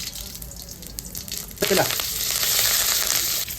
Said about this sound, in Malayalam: ഇതിലേക്ക് കടുക് ചേർത്ത് കൊടുക്കാം